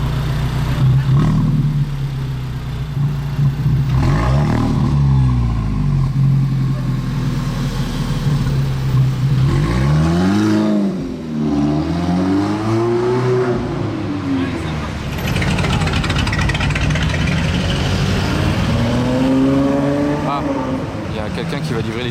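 Central Akrapovic exhaust on a Lamborghini supercar in Monaco revving loudly, with rising and falling engine pitch sweeps over a steady rumble, under continuous talk.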